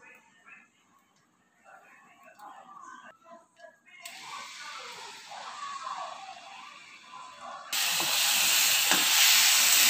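Ginger, garlic, onion and tomato paste is poured into hot oil and erupts into a loud, steady sizzling hiss that grows stronger in steps, with a voice talking before and over it.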